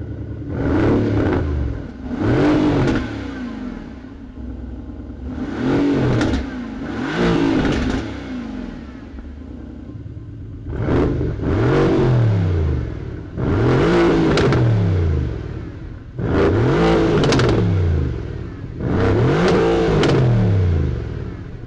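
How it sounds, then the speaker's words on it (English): A 2018 Mercedes-AMG GT R with its AMG Dynamic Performance exhaust system revs repeatedly, loud and close, in six or so sharp bursts that rise and fall, each pair separated by brief pauses, with no talking. "Let's go ahead and listen to that AMG Dynamic Performance exhaust system."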